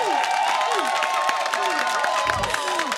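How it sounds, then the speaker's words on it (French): Dense crowd applause and cheering fill a warm church gathering, steady and loud throughout, with voices and shouts mixed into the clapping. "Allez, reprenez-moi ces applaudissements que je sens."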